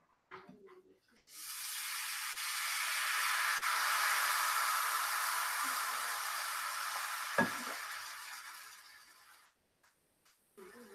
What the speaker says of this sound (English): Let's add some oil to the pan and start with the second one.